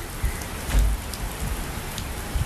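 Steady heavy rain pours down in Puerto Rico, a dense continuous hiss with occasional louder drops and low thumps close by.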